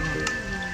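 Rain falls in the Minecraft video game as a brief, steady patter of drops, continuous and fairly close, with no voices over it.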